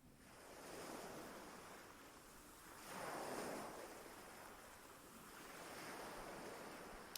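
Sea waves roll onto a beach, a steady broadband wash rising into three slow surges, with a faint wind rush throughout and no voices.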